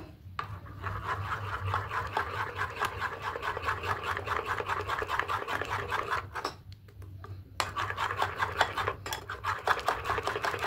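Continuous scraping and rubbing of a utensil against a bowl while mixing pitha batter with baking powder and water, steady and close, with brief pauses between strokes.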